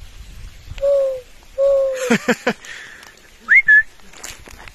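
Person imitating an owl with whistled, drawn-out hoots, two low notes followed by a couple of higher short calls, close and clear with a few clicks and brief vocal sounds between.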